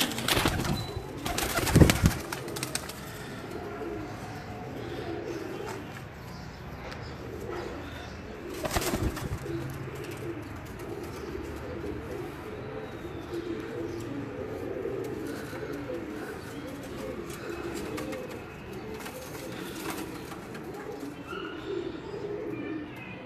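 Pigeons coo steadily through a busy outdoor din, with a couple of louder bursts near the start and again partway through.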